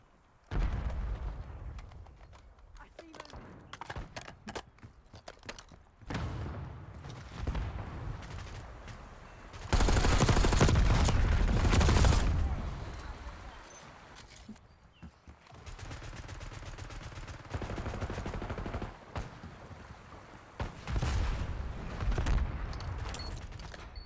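Gunfire in the Black Ops 6 video game comes in repeated bursts of rapid shots, with louder, heavier stretches of sustained fire and quieter gaps between exchanges.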